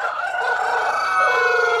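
A tiger chicken rooster crows at a poultry farm, one loud, close, sustained cock-a-doodle-doo call with no talk over it.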